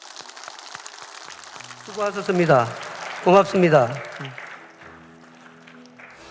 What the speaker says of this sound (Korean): 다 같이 박수합시다.